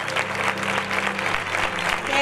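Crowd at the 2014 Feria de Facinas queen coronation bursts into sustained, dense clapping, loud and close, with a voice on the PA over it.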